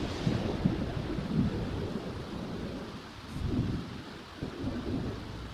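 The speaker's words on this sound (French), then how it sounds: "Bah dis donc, c'est pratique les orages." Steady rain with low rumbling thunder from a thunderstorm in The Sims 4, a continuous wash of downpour swelling and easing, with several soft rolls of thunder and no voices.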